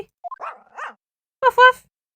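A voice imitates the dog Toby barking in the video game The Great Ace Attorney, giving two short, close, yappy woofs after a few soft murmurs, with silence in between.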